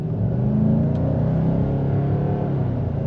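A 2023 Nissan Titan Platinum Reserve pickup with a naturally aspirated 5.6-liter V8 under light throttle, giving a deep, steady, smooth rumbling drone from inside the cab.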